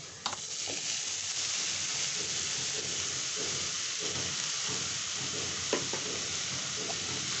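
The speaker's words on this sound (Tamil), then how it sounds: "இப்போ நம்ம துருவி வச்சுருக்க மாங்காவை போட்டுடலாம்" Grated raw mango frying with garlic in a pan gives a steady, continuous sizzle throughout, with a few soft scrapes and clicks of stirring, close and alone.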